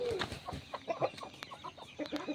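A yellow rooster gives a quick series of soft, broken clucks and short throaty calls, close by but fairly quiet, with no talking.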